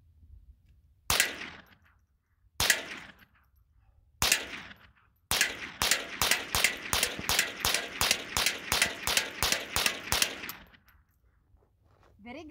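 Gunshots fired outdoors in the desert: three single reports spaced a second or two apart, then a rapid string of about fifteen evenly paced shots, loud and close, with no talking.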